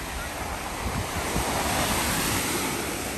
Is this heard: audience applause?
no